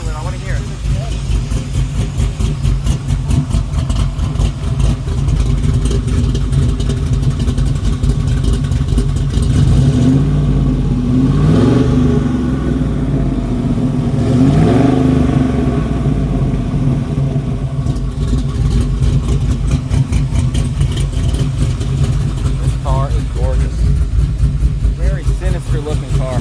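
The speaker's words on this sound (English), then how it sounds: "Bill, can you hit the gas a little bit?" A 1970 Camaro Z28 with a stroked, supercharged LS3 V8 and custom intake rumbles at a loud idle and gets blipped a couple of times, swelling into short revs at mid-clip, while people talk nearby throughout.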